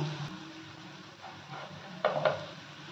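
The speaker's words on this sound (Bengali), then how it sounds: "এবার এটাকে ভালো করে তেলেতে কষে, মশলা থেকে দেখুন তেল ছেড়ে দিয়েছে" Bengali spice paste of cumin, chili, turmeric and Kashmiri chili powder frying in oil as it is stirred, a steady soft sizzle with a few clinks of the spoon against the pan near the end.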